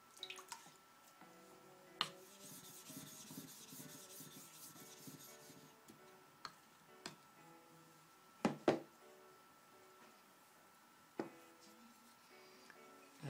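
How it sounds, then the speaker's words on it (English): A Nakayama Kiita #54 natural sharpening stone has a slurry raised on it: soft, quiet scrubbing and rubbing, broken by a few sharp taps and clicks. "I'm going to raise a slurry on this stone."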